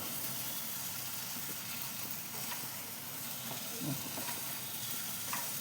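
Mashed taro paste cooks in mustard oil as it is stirred, giving a faint, even hiss and sizzle with a few soft scrapes, steady from start to finish.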